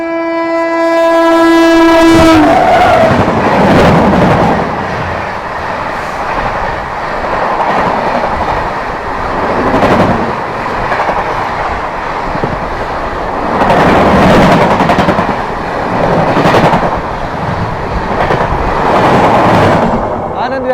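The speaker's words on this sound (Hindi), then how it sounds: "सामने से आती हुई Anand Vihar Kamakhya north east express" The Anand Vihar–Kamakhya North East Express passes close by, opening with a loud sustained horn blast, then a continuous heavy rumble of wagons with rhythmic clickety-clack wheel beats rising and falling.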